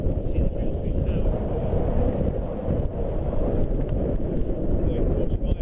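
Strong force 5 gusting 6 wind roars steadily across the microphone aboard a sailboat under jib alone, entering a marina at Grimsby, with a dense continuous rumble and hiss and no break throughout.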